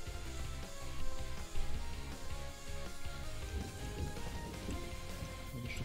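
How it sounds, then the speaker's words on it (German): Steady rain in the video game PUBG hisses as a constant wash across the whole stretch, with a few louder bumps, no talk over it. "Oder ist das der Regen?"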